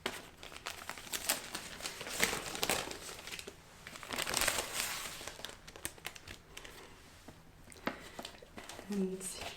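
A birthday present, a bag, is unwrapped, with close paper and plastic crinkling and rustling in irregular bursts throughout, faint voice sounds underneath.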